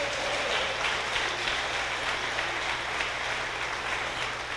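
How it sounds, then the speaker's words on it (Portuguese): Congregation applause at a church sermon, a steady, even wash of many hands clapping that fills the whole stretch with no voices on top. "Quem aplaude a Jesus de Nazaré?"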